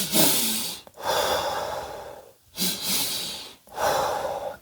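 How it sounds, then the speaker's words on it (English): Breathing drill of two quick stacked inhales followed by one long exhale, a calming technique, repeated in three loud, close breath cycles separated by short pauses, with no talking. "use Dr. Andrew Huberman's double inhale and 1 exhale to calm your nerves"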